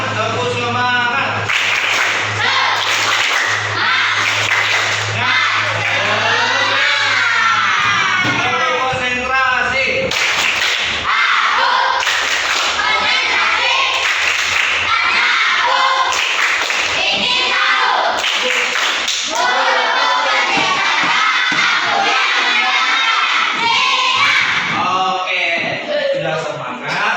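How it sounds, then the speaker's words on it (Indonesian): Indonesian schoolchildren in a classroom perform the tepuk semangat chant, rhythmic bursts of group clapping mixed with loud children's voices chanting together, steady and close throughout with a low hum under the first half. "Ayo kita buat dulu tepuk semangat, tepuk semangat."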